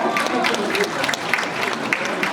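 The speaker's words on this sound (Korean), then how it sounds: "큰 박수로" An audience at a book launch for a former lawmaker's essay collection breaks into loud, sustained applause while an announcer's voice carries over the clapping.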